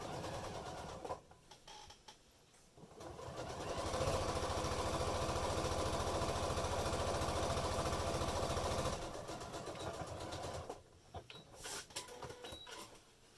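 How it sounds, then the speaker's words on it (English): Sewing machine stitching two make-up bag fabric pieces together about 1 cm from the edge, a steady close mechanical whirr running for several seconds between quieter handling noises. "we're going to sew that about 1 centimetre in from the edge"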